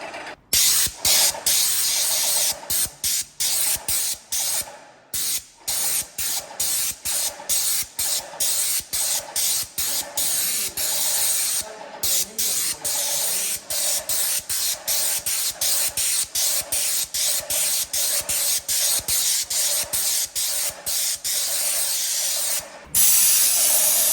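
An aerosol spray can coats workshop walls white in dozens of short, loud hissing bursts with brief pauses between them, close by and continuous for about twenty seconds, with no voices.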